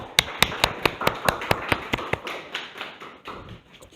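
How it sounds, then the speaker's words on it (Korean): A small audience claps to welcome a teacher at a middle school exam-prep briefing: a dozen or so distinct, evenly spaced claps ring out in a steady rhythm, then thin out and fade. "박수로 맞아주시면 감사하겠습니다."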